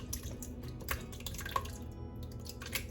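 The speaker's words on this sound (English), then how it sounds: "I am going to strain this off." A thick homemade juice mixture strains through a strainer, with soft liquid drips and trickles falling steadily at close range, quiet and without talk.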